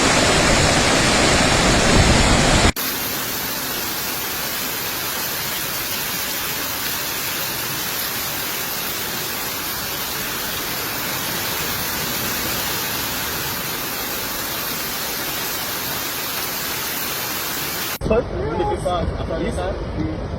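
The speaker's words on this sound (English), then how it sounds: "Watch the gully. Gully come over fully." Floodwater roars down a road gully in Jamaica during Tropical Storm Elsa, a loud continuous rushing wash that swells in and persists, with a voice heard at the start and end.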